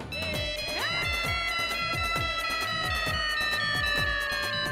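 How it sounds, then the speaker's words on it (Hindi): A mobile phone ringtone plays a steady electronic melody with sustained tones over a repeating rhythmic pattern, loud and continuous throughout with no talking. "My dear Bena का फोन"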